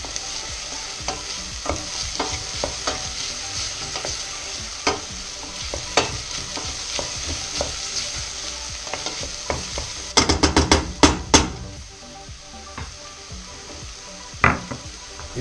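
A spoon stirs seasoned lentils in a pot while fat fries and sizzles steadily underneath, with a close burst of quick scraping knocks against the pot partway through and scattered taps elsewhere; no one speaks.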